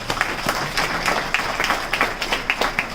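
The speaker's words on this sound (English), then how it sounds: "Let's give Major Earle Johnson a round of applause for being here." An audience at a Dominica Defence Force farewell ceremony claps in a scattered, moderately loud round of applause, with individual claps standing out over a general wash.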